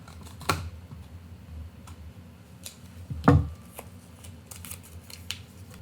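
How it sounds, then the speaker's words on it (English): Scissors cut through the top of a homemade plastic rain gauge filled with set gelatin: a few sharp snips and clicks, one near the start and a louder one midway, with light handling noise between. "We can just cut that top part off."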